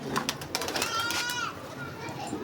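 Pigeons coo softly amid busy background chatter, with children's voices and talk overlapping the birds' low calls for a couple of seconds.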